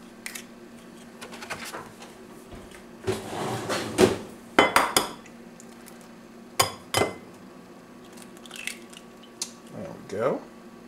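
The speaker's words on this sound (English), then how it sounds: "now that we broke the 2 eggs in the bowl" Two eggs being cracked into a bowl in a home kitchen: a handful of sharp taps and clinks against the rim, scattered over several seconds, with faint shell crackle between them in a quiet room.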